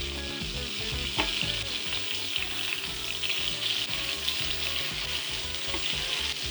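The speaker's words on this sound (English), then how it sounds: "This salmon has been searing for about 5 minutes." Salmon fillet searing in a hot pan, a loud continuous sizzle with scraping and stirring sounds over it, close and steady throughout with no voices.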